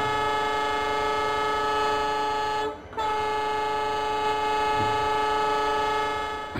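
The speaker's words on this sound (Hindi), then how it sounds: "ओ भाई साउंड देख रहे हो हॉर्न का" A train horn in the railway simulator Trainz 12 sounds as a loud, steady, multi-tone blast that holds for several seconds, cuts out briefly, then resumes.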